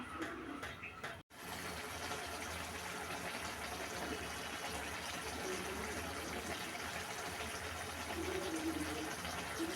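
Liquid pours and splashes steadily into a pan of prawn and yardlong bean curry, a continuous watery gush with a brief break near the start, fairly close and moderately loud.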